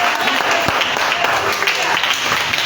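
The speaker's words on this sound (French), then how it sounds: "On acclame très fort le Seigneur." A church congregation at a Sunday service applauds loudly and steadily, a dense, sustained wash of clapping that fills the whole moment without a break.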